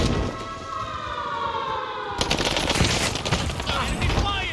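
Enemy gunfire in a Call of Duty Warzone match, with rapid bursts and shots layered under a rising siren-like wail, steady and fairly loud throughout the busy battle mix.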